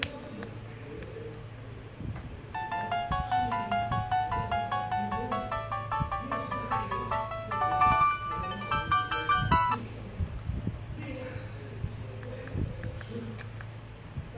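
A K-Touch B2020, an obscure Chinese budget phone, plays its power-on startup melody after a BL5C battery is inserted, a bright electronic tune of quick tonal notes lasting several seconds over steady background hum.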